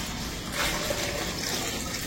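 Water pours steadily into a basin, a continuous close gushing splash with no breaks, loud and alone.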